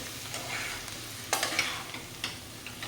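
Leftover cooked rice and added ingredients are stirred and mixed in a pan, giving soft scraping and a light sizzle with a few sharper utensil knocks, close and without voices.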